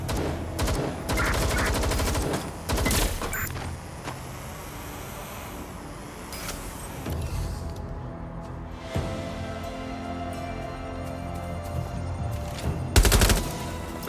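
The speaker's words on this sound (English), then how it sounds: "Someone's shooting!" Gunfire in Watch Dogs Legion: bursts of loud shots and rattling volleys alternate with quieter stretches of background action and engine rumble, peaking in a sharp cluster near the end.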